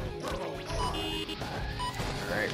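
Cars smash and crash amid engine roar and game effects in the Gaelco arcade racer Smashing Drive, with dense, loud impacts and electronic tones, plus a voice talking briefly in the mix.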